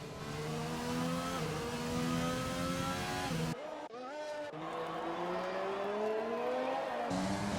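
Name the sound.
Honda race car engine in a racing video game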